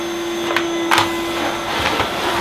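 An electric vacuum cleaner runs steadily with a constant droning hum, rising in a few brief louder surges, with no voices over it.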